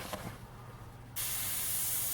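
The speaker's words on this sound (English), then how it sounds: "then light spray, light spray, light spray, heavy" A spray gun sprays metallic car paint on a 1965 Dodge Coronet, a sudden loud, steady hiss starting near the midpoint after a quiet lead-in with a faint tap.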